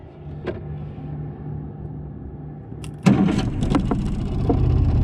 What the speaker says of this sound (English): See if it'll start in gear.